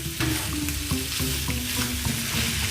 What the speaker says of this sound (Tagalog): And stir fry na natin.